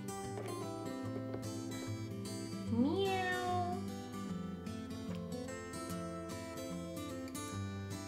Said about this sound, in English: What's the sound of the cat?